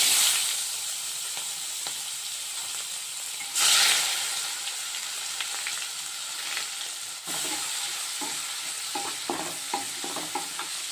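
Onions fry in hot oil with whole garam masala of cardamom, cinnamon and cloves. A close, steady sizzle surges when the onions go in, and light clinks of stirring follow.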